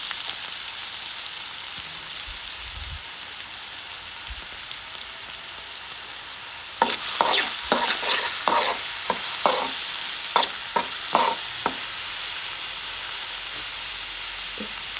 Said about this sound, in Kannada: ಸೊ ಆಮೇಲೆ ನಾವು ಹೆಚ್ಕೊಂಡಿರುವಂಥ ಈರುಳ್ಳಿಯನ್ನು ತಗೊಂಡು ಸ್ವಲ್ಪ ಹಾಕಿ